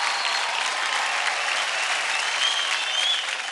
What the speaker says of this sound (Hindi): एक बार फिर से जोरदार तालियां